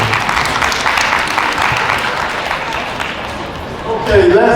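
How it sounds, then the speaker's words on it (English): A middle school symposium audience claps and cheers in a lively, continuous burst, with voices mixed into the crowd and a louder voice rising near the end. "let's get Cody Turner a round of applause."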